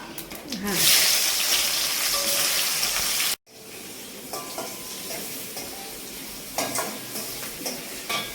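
Onion goes into hot oil with cumin and whole spices in a pan for Bengali egg curry, starting with a loud burst of sizzling, then a steadier fry with stirring scrapes and clinks after a brief cut.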